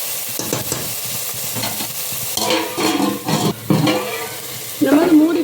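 Ginger garlic paste fries in a pan for a bean curry, a steady sizzle broken by bursts of stirring scrapes and spatters, close and fairly loud.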